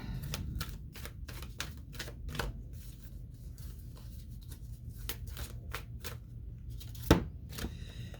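Tarot cards being shuffled by hand, a rapid series of crisp riffling clicks and taps with small pauses and one louder knock near the end, close by.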